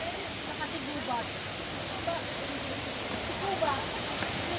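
Hulugan Falls and its river in a forest, a constant loud broadband roar of falling and flowing water that fills the whole clip, with faint voices now and then beneath it.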